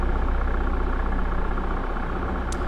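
A bus engine idles in The Bus driving game, a steady low rumbling drone that holds at an even loudness for the whole stretch, alone with no talking over it.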